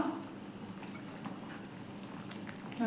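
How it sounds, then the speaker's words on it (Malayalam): Lentil curry (parippu curry) bubbles in a pot, a faint, steady simmering crackle with soft popping throughout and no voices. "ഇതാ കറിയെല്ലാം നന്നായി തിളച്ചിട്ടുണ്ട്"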